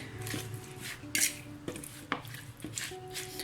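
Chicken being mixed with ingredients in a bowl for a quick fried chicken recipe, with close, quiet clinks, scrapes and soft wet stirring knocks coming in irregular bursts, no talking.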